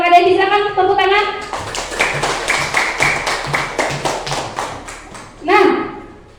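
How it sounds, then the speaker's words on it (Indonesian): A group of children clapping together for several seconds in a classroom, a steady burst of hand claps between bits of a teacher speaking before and after. "Silakan tepuk tangan."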